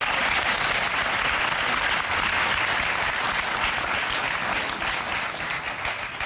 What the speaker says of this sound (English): I don't get why they clapping either.